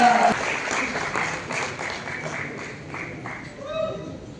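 Applause from an audience greeting the actor Sivakarthikeyan (SK) at a title launch event, a broad wash of clapping that swells and fades over a few seconds, mixed with crowd noise and a voice.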